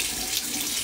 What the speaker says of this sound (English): you put it under the tap, put hot water